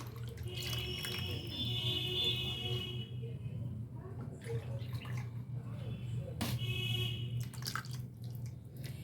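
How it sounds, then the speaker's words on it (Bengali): Two cups of milk are poured from a measuring cup onto carrots, making a continuous soft liquid trickle and splash that runs throughout at a moderate, close level. "এখন আমি এর মধ্যে দিয়ে দিব এই মেজারিং কাপে দুই কাপ দুধ"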